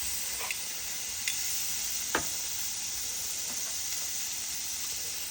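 Chuck eye steaks sizzle steadily in a hot pan just after being flipped, a constant hiss with a few faint ticks and pops, close and moderately loud, with no talking.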